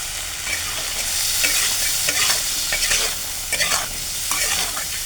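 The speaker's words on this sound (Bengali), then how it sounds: "এখন আমি মটরটা ভাজবো। একটু নুন হলুদ দিয়ে ভেজে নেব।" Green peas frying in a pan with salt and turmeric, a loud close sizzle broken by repeated rhythmic bursts of stirring and scraping, with no speech.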